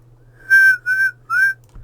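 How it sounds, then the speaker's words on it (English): A steam locomotive whistle blows three clear, fairly loud toots, each lasting about a quarter second with short gaps between, over a low steady rumble from the engine. "I blew my whistle."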